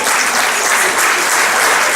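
Audience at a school speech day applauds David Eversley, just returned as school president, with steady, dense clapping filling the hall at full volume throughout.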